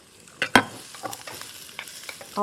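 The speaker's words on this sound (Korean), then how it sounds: "다 넣고 볶는데 그냥 볶지 마시고 요거랑 같이 볶아주세요." Zucchini stir-fried in a pan with ingredients tossed in sesame oil, for a dried acorn jelly japchae, gives sharp scraping stirs and light sizzling in close, irregular bursts, with no talk.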